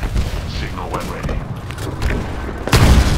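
A grenade goes off during a Titanfall multiplayer match, with a heavy low boom bursting out near the end over steady battlefield noise and chatter.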